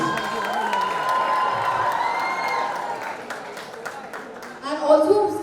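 A crowd of fans screams and cheers at a dance event with actors, high shrill voices rising together and sustained, with a surge of cheering near the end while someone talks over it.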